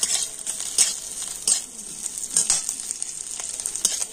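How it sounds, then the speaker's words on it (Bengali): Sliced coconut fries lightly in hot oil, giving a steady, bright sizzle with occasional sharper pops and crackles, close up and continuous with no voices. "নারকেলটাও তেলের উপর কিন্তু আমি একটু হালকা করে ভেজে নিচ্ছি"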